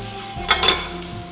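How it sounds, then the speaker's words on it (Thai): Chopped garlic stir-frying in olive oil in a pan: a steady close sizzle with a few quick scraping strokes from stirring, no talking. "จะใช้น้ำมันมะกอกนะครับ นำกระเทียมสับนะครับลงมาผัดกันเลยฮะ"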